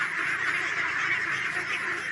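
Ducks and ducklings quacking, a dense continuous chorus of many overlapping calls, fairly near and steady throughout, with no talking.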